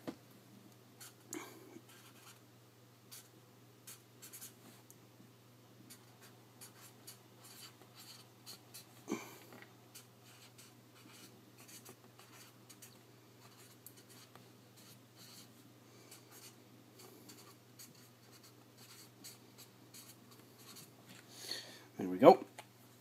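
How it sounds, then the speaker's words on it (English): A pen scratches out short strokes on the label of an IBM L40SX reference floppy diskette, close and quiet, in irregular bursts with a scrape near the end and soft speech between strokes. "I was able to get a reference disk, which I'm going to write up"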